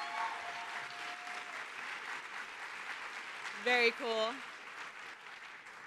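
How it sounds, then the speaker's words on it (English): Audience applause after the Genki Spark performance at an arts and community health plenary, a soft, distant ripple of clapping, with a brief spoken remark and a tone partway through. "Let's give them one more round of applause for Genki Spark."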